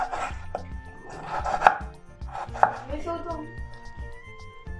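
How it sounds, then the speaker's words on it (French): A knife slices potatoes into thin rounds for homemade chips, giving close, rhythmic cuts against a board with a few sharper knocks, no voice. "Maintenant qu'on a coupé nos PDT en tranches"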